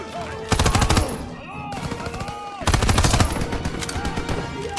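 Rapid bursts of automatic gunfire in the World War II video game Call of Duty WWII, loud and close, with two long volleys separated by a brief lull, and a voice talking over the shooting.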